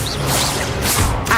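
A Levioso spell cast in Hogwarts Legacy produces a dense burst of magical whooshing and crackling effects, loud and close, lasting about a second and a half with no speech.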